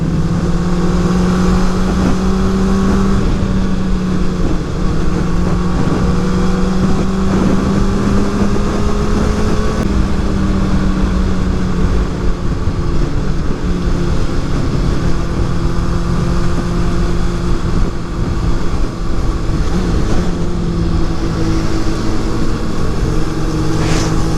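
Continuous motorcycle engine and exhaust drone with a steady low hum and shifting harmonic tones, loud and close throughout, like a sport bike riding alongside, with no voices.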